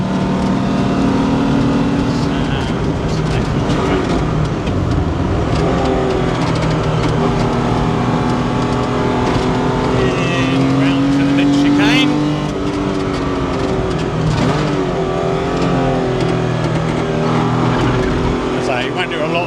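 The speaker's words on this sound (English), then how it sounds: "you've got this lovely Alfa Busso in the back making most of the soundtrack" A Lancia Stratos with an Alfa Romeo Busso V6 laps the Castle Combe circuit, its engine roaring loud and close throughout, rising and falling through gear changes, with someone talking over it.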